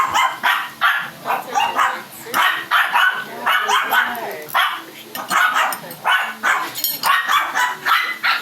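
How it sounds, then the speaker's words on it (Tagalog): A dog barks repeatedly in quick, loud bursts close by, a steady run of sharp yips with a few whimpering tones mixed in. "Naririnig niyo yung taul ng aso."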